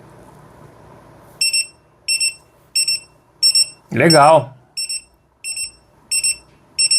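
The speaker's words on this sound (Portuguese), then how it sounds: "Quando ele marcar aqui 21h07, ele vai fazer a ativação do alarme." Alarm on a LiJIANI RD231 pocket radio beeping in a steady repeating pattern of short, bright pulses, close and fairly loud, with a brief spoken word cutting in midway.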